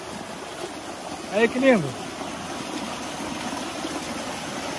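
A small stream on a rural property flows steadily with a soft, continuous rushing trickle; a person briefly speaks over it partway through.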